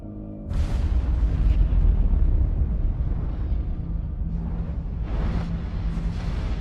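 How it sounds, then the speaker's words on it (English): A deep rumbling explosion booms in an Assassin's Creed Syndicate cutscene, swelling loud after a brief lead-in and rolling on with lingering blasts and a later burst. "What was that explosion?"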